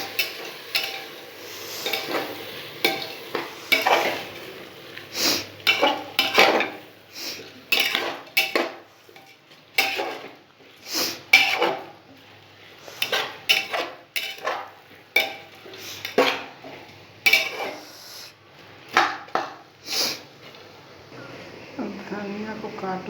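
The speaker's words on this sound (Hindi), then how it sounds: "अब चावल डालते हैं। इसको थोड़ा चलाएंगे।" Rice goes into a pan and is stirred with a metal utensil, bringing repeated scraping and clinking against the pan with a faint sizzle, under a voice talking throughout.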